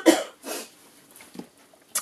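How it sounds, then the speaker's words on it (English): A woman with a lingering illness coughs in a few harsh bursts. Two strong coughs come close together, then a softer throat sound and one more sharp cough, all near and clear with no talking. "I'm going to cough in a moment because I can feel it coming."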